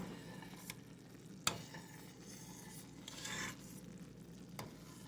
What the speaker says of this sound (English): And I'm continuing to stir.